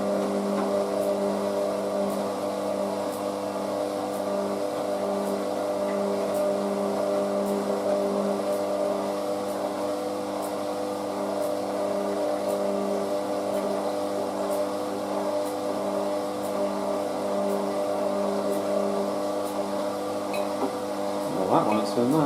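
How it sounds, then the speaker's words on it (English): The motor of a Hotpoint WM63 Aquarius washing machine runs on a fast spin with the lid off, giving a steady droning hum with faint periodic ticks and a clatter near the end. "So we're on the third intermediate spin. You can see how we run. This is the fast one, of course, as you know."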